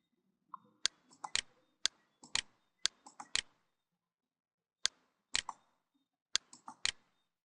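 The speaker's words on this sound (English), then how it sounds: "We're going to use the keyboard to type the name of the site." Computer keyboard keys tapped to type a site name, short clusters of crisp, close clicks separated by brief pauses, with nothing else audible.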